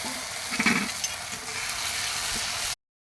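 Tomato paste hits hot oil over already-fried onions in a pan, giving a bright, close sizzle with a few stirring scrapes early on before the sound cuts off abruptly.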